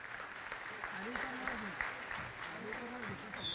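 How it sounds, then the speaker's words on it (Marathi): An audience applauds at a Guru Purnima gathering, a steady wash of clapping heard beneath a voice speaking over it. "एकदा जोरदार टाळ्या झाल्या पाहिजे"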